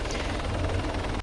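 An ArmA 3 helicopter with a failed main engine and lost tail rotor, a loud dense rotor and engine roar with a rapid blade chop, steady throughout and cutting off abruptly at the end.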